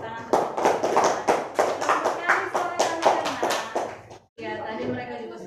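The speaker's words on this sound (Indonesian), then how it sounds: "Oke, tepuk tangan." A group of people clapping hands in a quick, regular rhythm of sharp claps, fairly close, ending abruptly with a brief pause before voices begin.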